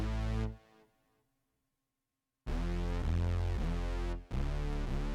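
Aggressive mid-range synth bass for a hype drop, loud and heavily harmonic, playing a short burst, dropping out for over a second, then returning in chopped rhythmic notes with a brief gap near the end.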